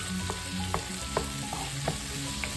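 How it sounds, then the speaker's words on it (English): Pork sizzles and fries steadily in a hot pan for dinuguan, with a few light scrapes of stirring breaking through the continuous close sizzle. "Alright, the meat's still sauteing"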